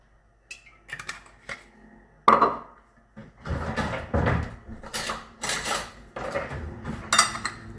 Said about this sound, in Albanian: I trazojmë gjithë përbërësit bashkë.